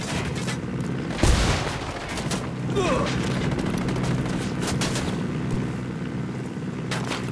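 Gunfire in the video game Ghost Recon Wildlands comes as one sharp, loud shot followed by a few fainter bursts and mechanical clicks over a constant background rumble.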